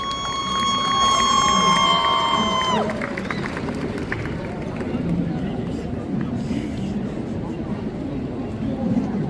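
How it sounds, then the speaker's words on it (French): An audience at a cosplay parade during the Japan Tours Festival 2024 cheers and applauds, loud and crowded, while music with sustained tones plays at first, then gives way to crowd noise and chatter. "que je vous demande d'applaudir bien fort"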